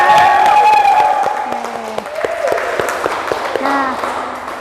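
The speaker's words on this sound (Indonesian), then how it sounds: "berikan tepuk tangan" Students in a classroom clap along in a short burst of applause mixed with excited children's voices and shouts, loud and close, settling into scattered clapping as it fades.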